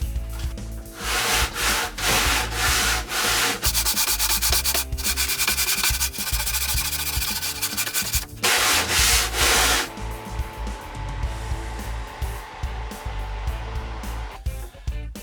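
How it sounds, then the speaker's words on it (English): Wood being sanded smooth ahead of gluing while building a table, a loud, steady abrasive rubbing that runs almost continuously with brief pauses and changes in stroke. "I'll sand it down first, just to make sure that wood's nice and clean before we glue it"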